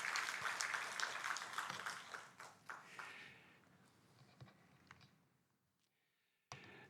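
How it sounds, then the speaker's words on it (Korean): A church congregation applauds to celebrate newly baptized members during a worship service, with the clapping strong at first, then thinning to scattered claps and fading almost to silence. "우리 이들의 축하하는 박수 같이 함께 하십시다"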